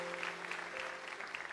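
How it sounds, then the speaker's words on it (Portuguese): Soft applause from a church congregation during a sermon, a steady patter of clapping heard from some distance with a low hum underneath. "Você pode aplaudir"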